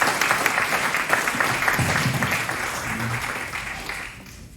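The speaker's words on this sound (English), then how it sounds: "Please give them a round of applause for all their hard work." Audience applause at an evening wildfire preparedness community program, a steady broadband clatter of many hands that holds evenly, then thins and fades toward the end.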